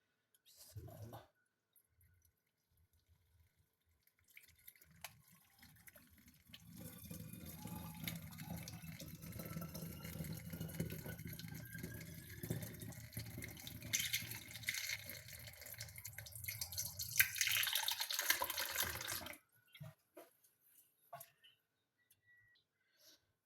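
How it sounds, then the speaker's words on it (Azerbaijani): Boiled water from a kettle poured into a jar for sour cherry compote, a steady splashing, gurgling stream that rises in pitch as the jar fills, then stops abruptly; quiet and close. "İndi çaynikdən qaynadılmış su əlavə edirik."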